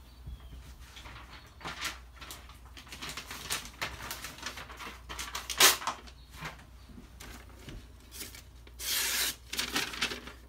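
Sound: sharpening a Microtech Socom Elite knife, CTS-204P steel

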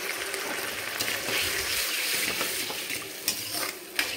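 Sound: tamarind water boiling in pot

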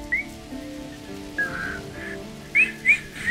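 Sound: whistling skill in Divinity: Original Sin 2 video game

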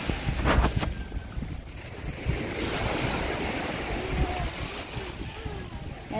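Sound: boat on water

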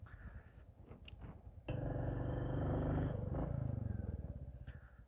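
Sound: motorbike being ridden down and turned around

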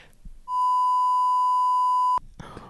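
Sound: censorship bleep over speech

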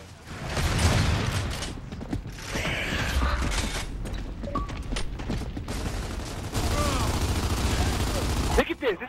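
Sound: gunfire from Gears of War 3 video game

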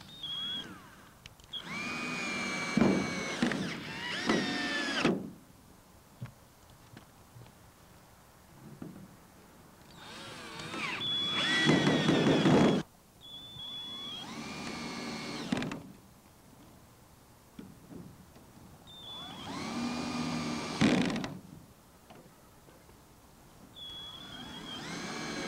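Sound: power drill driving screws into greenhouse back panel

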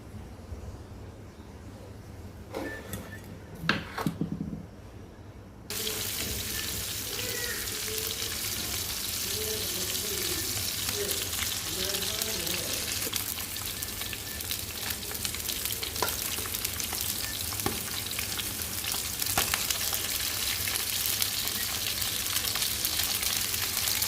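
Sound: frying pabda fish in oil

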